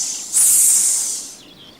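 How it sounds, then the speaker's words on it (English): A snake hisses once in a children's jungle-animals programme, a short bright sibilant burst rising then trailing off, heard alone. "This is a snake."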